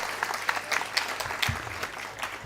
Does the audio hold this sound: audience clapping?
yes